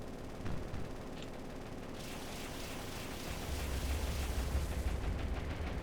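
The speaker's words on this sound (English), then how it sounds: "Let's go ahead and start strafing here." Rapid strafing gunfire from a warship in the naval combat game War on the Sea, a distant rumbling stream of shots that swells and thickens into a dense, continuous barrage.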